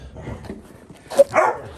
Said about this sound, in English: You can hear the dogs in the background being idiots